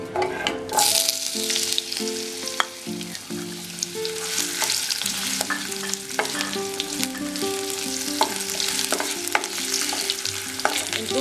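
Potato slices fry in hot ghee with a dense, crackling sizzle, punctuated by sharp scrapes and knocks of stirring, while a soft melodic tone plays underneath; no speech.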